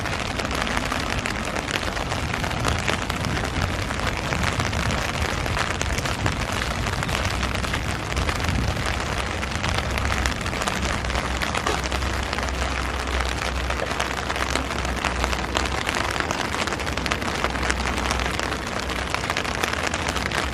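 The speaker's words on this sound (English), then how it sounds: "Love the sound of that rain." Steady Pacific Northwest rain in Gresham, Oregon pouring down without pause, a dense even hiss of drops hitting surfaces close by, with no voices or other sounds.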